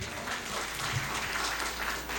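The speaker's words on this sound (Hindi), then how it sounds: "एक बार इनके लिए तालियां बजा दीजिए।" Audience applause for a poet at a Hindi comedy poetry gathering, a dense continuous wash of clapping at steady level, slightly distant, without talk over it.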